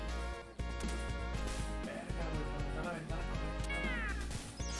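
A cat meows in the Michael Jackson's Moonwalker video game, short cries layered over continuous game music and effects, fairly quiet overall.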